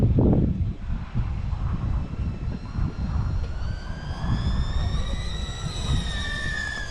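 A digital FPV drone's motors whine in a high, gliding tone that climbs as it flies on a windy day, with heavy wind rumble on the microphone throughout.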